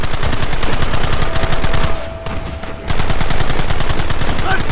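Rapid, continuous gunfire fills a Red Dead Redemption battle, with shots in a dense rhythm that briefly thins before surging back. It is loud and steady throughout, with no talk.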